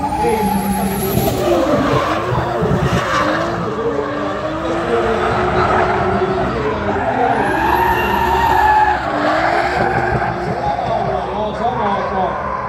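A BMW drift car at a pro drifting round in Jyväskylä, Finland, revs hard with a loud, wavering engine roar and sustained tire squeal, heard from a distance over the crowd, while a commentator talks throughout.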